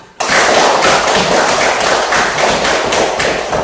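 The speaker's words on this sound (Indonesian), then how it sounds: "Ya, tepuk tangan." Dense, loud applause from a classroom of students, a steady wash of many hands clapping that starts abruptly and carries on without talk.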